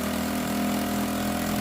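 A freshly rebuilt Yamaha Vega R / Jupiter Z motorcycle engine runs close by, a steady, continuous drone throughout.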